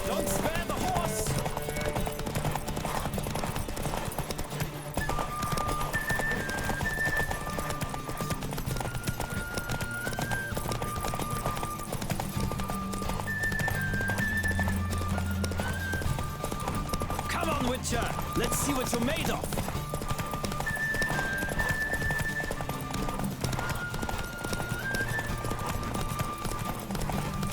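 Hoofbeats of a horse galloping in a race in The Witcher 3 keep up a steady clip-clop under constant game music, with occasional whinnies and a voice speaking over the action.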